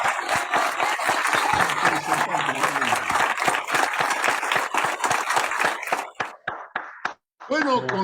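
Applause for Johnny López from a studio audience, a dense wash of clapping with voices mixed in, thinning out and breaking up near the end into scattered claps.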